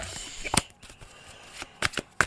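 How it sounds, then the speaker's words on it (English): Tarot cards being shuffled in a few quick riffling bursts, close and crisp, with short pauses between them. "I'm gonna shuffle these."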